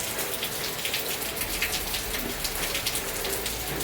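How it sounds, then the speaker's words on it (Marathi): Steady rain falls at a moderate distance, a continuous patter on surfaces with no talking, its hiss holding even throughout. "हा पाऊस सुरू आहे"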